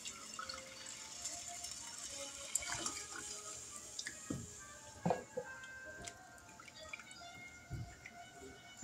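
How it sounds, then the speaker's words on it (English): Half and half poured into a pot of ham and potato soup, a soft continuous liquid trickle with a few small drips and clinks at low volume. "now we're going to pour the half and half in"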